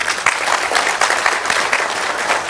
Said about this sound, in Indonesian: Jadi tepuk tangan untuk Mas Mutakin